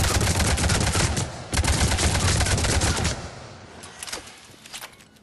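Avenger assault rifle from Mass Effect 3 fired at short range on a practice target, giving rapid, loud bursts of automatic fire in a few clusters, tailing off into sparse single shots toward the end.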